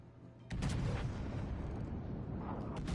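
Heavy naval gunfire from the forward turrets of the battleship Bismarck in World of Warships Legends, a loud booming salvo that erupts after a brief quiet and rolls on with a sustained rumble, another blast near the end.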